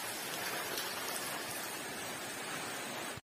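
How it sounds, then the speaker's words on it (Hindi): Steady rain hisses evenly and softly, a constant wash of falling water with no voices. "आज काफ़ी बारिश हो रही है"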